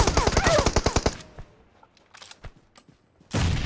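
Rapid automatic gunfire from PUBG, a dense burst of shots that fills the first second, then sparse distant pops, and a second loud burst near the end.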